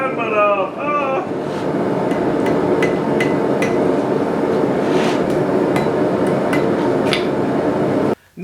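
Steel taps sharply as a blacksmith hammers a letter opener sword to taper it: a steady run of loud, evenly spaced metallic ringing strikes close up, with a voice heard briefly at the start.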